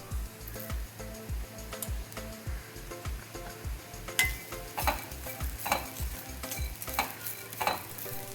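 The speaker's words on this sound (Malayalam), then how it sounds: "1 സ്പൂൺ ഉലുവ, 2 സ്പൂണ് പെപ്പർ അതും കൂടെ ഇട്ടൊന്ന് വറുത്ത് കൊടുക്കാം." Curry leaves, fenugreek and pepper fry in hot oil in a Kerala kitchen, a steady close sizzle broken by regular scraping stirs at a quick, even rhythm.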